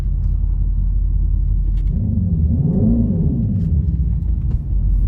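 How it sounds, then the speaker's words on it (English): A 2025 Dodge Charger Daytona EV revs in neutral with its synthetic exhaust sound, a loud rumbling swell that rises and falls once over a steady low drone, heard close with no talking. "the fact that you can rev this thing from neutral is just crazy"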